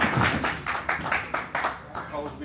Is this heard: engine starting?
no